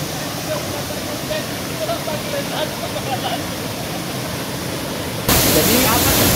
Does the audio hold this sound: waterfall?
yes